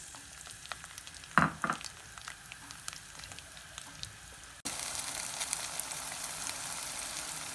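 Onions dropped into hot cooking oil in a pan, with a brief thud and clatter followed by a faint crackle that jumps into a steady, louder hiss of sizzling, close by with no talk.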